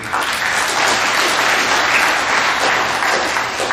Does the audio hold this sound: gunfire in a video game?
no